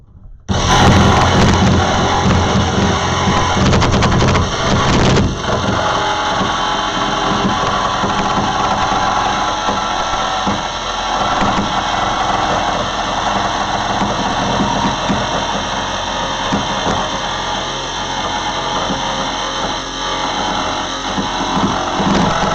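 A power saw rips through the metal roof of a van while a vent opening is cut for a Maxxfan, a loud, constant grinding whine that runs unbroken for the whole stretch, very close, with no talk.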